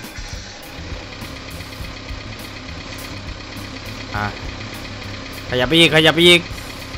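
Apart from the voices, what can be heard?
PC130 excavator engine running in Farming Simulator 19 video game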